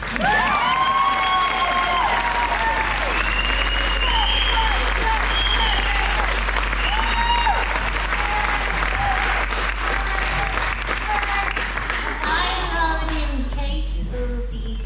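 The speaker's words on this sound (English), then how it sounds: "let's have a round of applause for Kate" Audience at a skydiving Hall of Fame award ceremony gives loud, sustained applause with cheers and whoops, steady throughout with a constant low hum beneath and a voice rising over the crowd near the end.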